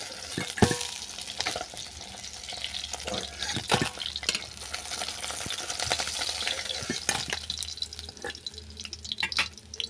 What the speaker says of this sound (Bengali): মাছ ভাজা হয়ে গেছে, এটাকে আমি তেল থেকে নামিয়ে নিচ্ছি।